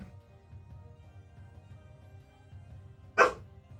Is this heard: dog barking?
yes